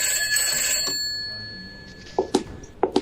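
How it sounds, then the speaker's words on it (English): An old telephone bell rings in an office scene, with a sustained ringing tone at the start that fades out, followed by a few sharp knocks or clicks near the end. "Oh, there's the phone."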